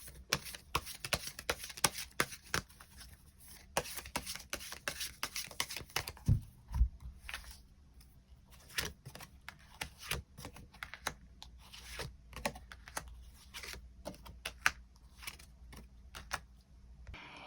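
Tarot cards being shuffled and drawn for a reading, a run of close, crisp papery flicks and taps with some louder snaps scattered through, fairly quiet overall with no talking.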